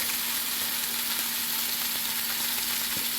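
Onions sizzling in a little oil in a cooking pot, a steady, close, even hiss with faint crackles throughout and no talking.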